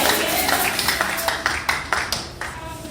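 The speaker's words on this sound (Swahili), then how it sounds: "Chapa makofi, sema amina." A church congregation claps hands during a sermon, a string of sharp, fairly regular claps over a steady background of voices and room sound.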